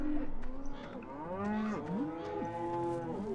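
Cattle in a farming video game give several drawn-out moos, overlapping and sliding in pitch, fairly close and clear over a low steady background.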